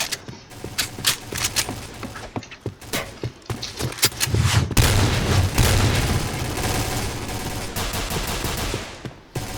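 Rapid bursts of gunfire in the video game Point Blank crackle throughout, single shots and fast volleys layered over a dense, loud background of in-game noise and booms.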